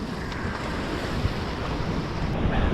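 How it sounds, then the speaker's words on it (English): Hot, dry coastal wind blowing steadily, with a broad roar of wind buffeting the microphone over distant surf, loud and continuous throughout with no voices. "The hot, dry wind doesn't do anything for the fishing."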